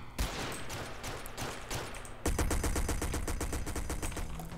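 Rapid Desert Eagle gunfire in GTA San Andreas multiplayer (SA-MP), a quick burst of shots followed by a dense, continuous volley of loud, evenly spaced cracks.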